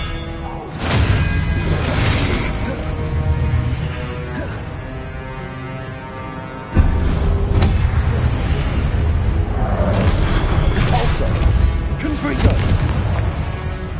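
Spell effects from the Hogwarts Legacy video game, Expelliarmus among them: loud booming magical blasts with crackling bursts and whooshes, one sharp impact midway, dense and continuous under game music and effects.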